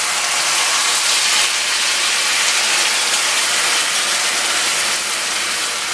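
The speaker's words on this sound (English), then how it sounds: "that sizzle sound is the sound you want to hear" Meatballs sizzling loudly in hot oil in a pan, a dense, steady bright hiss that holds evenly without pause and with no talking.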